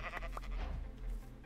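A sheep bleats in Minecraft with a short, nasal in-game cry over a steady low background hum, sounding close and moderately loud.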